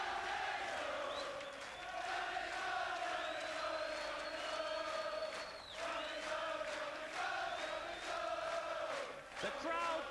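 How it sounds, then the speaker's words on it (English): A darts audience at the 1988 Embassy World Championship final between Bob Anderson and John Lowe applauds and cheers, a steady loud roar of clapping and voices that swells and dips over about ten seconds. "The crowd paying fair tribute to the world number one and the world number 2 Lowe"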